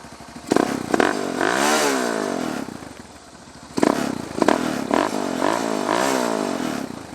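A warmed-up motorcycle engine runs close by, revving up twice in long swelling bursts that rise and fall, with clattering mechanical knocks and a rough idle between.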